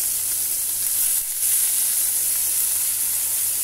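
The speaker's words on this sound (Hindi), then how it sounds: "ये हल्का सा रोस्ट कर दूंगी" Onion, capsicum, tomato and cabbage sizzle while roasting in a pan for an aloo tikki burger, a steady close-up frying hiss that holds constant throughout with no talking.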